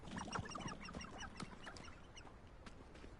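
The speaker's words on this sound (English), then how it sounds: "Oh, it's the chickens." Poultry clucking amid other bird calls in the Hogwarts Legacy video game world, a steady low run of soft clucks and chirps beneath scattered higher bird notes, fairly faint with no talking.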